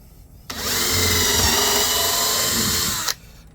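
A power drill bores into wood while building a birdhouse, one steady, loud whirring run of about two and a half seconds with a sharp start and stop.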